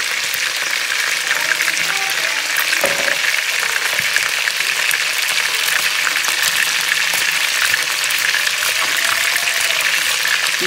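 Chicken browns in a pan with spices and herbs, giving a loud, constant crackling sizzle with faint clinks now and then.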